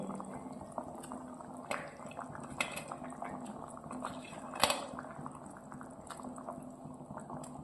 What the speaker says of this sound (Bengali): সে ঝোলটা ফুটে গেছে। এবারে মাছগুলো দেওয়া হচ্ছে।